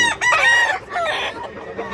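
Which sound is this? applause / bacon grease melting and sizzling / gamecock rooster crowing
gamecock rooster crowing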